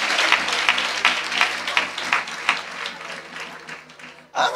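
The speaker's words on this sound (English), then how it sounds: "There are very few who are clapping hands." A small gathering at a morning church devotion claps hands in a light, uneven patter that gradually fades over a few seconds, with talk mixed in.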